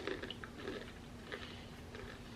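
Close, quiet bites and crunches of a light, airy barbecue-flavoured snack, several irregular crisp chews spread over a couple of seconds with no talking.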